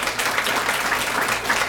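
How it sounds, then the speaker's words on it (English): An audience at a Girl Scouts cybersecurity badge press conference gives a short burst of steady, even applause, with no talking over it. "Let's give that a round of applause"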